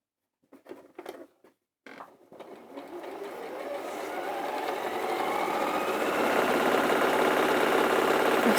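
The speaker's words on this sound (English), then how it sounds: "bit of speedy sewing" A home sewing machine starts in short bursts and then runs continuously at high speed, its rapid mechanical whirr building and holding steady and loud close by, with no talk over it.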